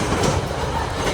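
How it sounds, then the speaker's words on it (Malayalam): A KiwiRail train in New Zealand crosses a viaduct at speed, giving a dense, continuous roar with rattling wheel noise close by and no voices over it. "പൊളിച്ച് എന്ത് സ്പീഡിലാണ് മേളിൽ ട്രെയിൻ പോയത്"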